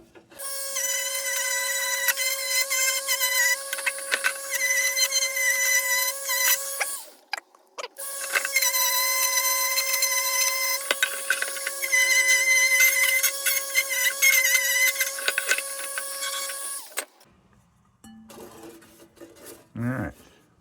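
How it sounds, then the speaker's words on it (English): A Dremel rotary tool grinds through solder on a C.T. Ham no.2 Cold Blast lantern, a high-pitched whine rising and falling as it bites, running in two long stretches with a brief pause and then quieter handling sounds. "I'm gonna take a Dremel and I'm gonna get down to that solder there"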